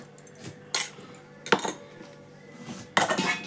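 Chicken biryani mixture with garlic, coriander and green chili paste is turned with a metal spoon in a vessel, three or four distinct bursts of clanking and scraping separated by quiet pauses.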